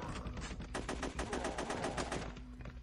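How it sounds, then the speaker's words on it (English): Rapid gunfire from the Flash zombie shooter Dead Zed rattles in quick, evenly spaced bursts of sharp cracks, loud and close, with no talking over it. "I'm kind of just shooting randomly, but I'm managing to hit him in the head."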